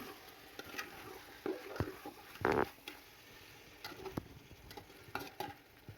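Potatoes and chicken pieces fry in spiced masala for chicken biryani. A quiet, soft sizzle runs under scattered spoon scrapes and taps against the pot.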